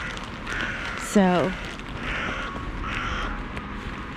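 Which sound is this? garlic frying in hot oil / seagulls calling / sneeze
seagulls calling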